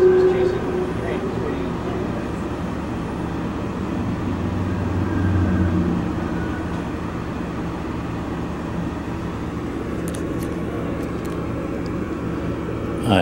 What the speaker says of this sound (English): I believe that was the train we were waiting for.